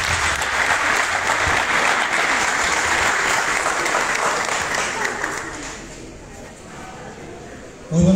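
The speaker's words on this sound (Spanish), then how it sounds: "Fuerte los aplausos para recibirlo." Sustained audience applause at a daytime intercultural health fair for migrants held in a park, a broad wash of clapping that fades toward the end before a sudden loud burst closes it.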